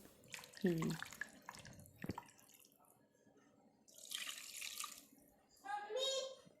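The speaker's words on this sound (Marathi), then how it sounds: "आता हे गरम पाण्यामध्ये मी सगळं ते व्यवस्थित असं हिसाळून घेणार आहे" Hot water splashes as items are rinsed in a home kitchen, coming in short bursts with quieter gaps between them. A voice and other talk can be heard nearby.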